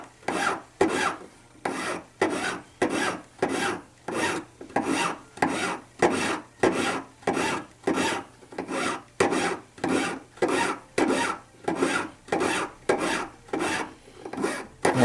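A hand file rasps steadily on a solid precious-metal ball, each stroke loud and close in an even back-and-forth rhythm of about one and a half strokes per second, with no talking.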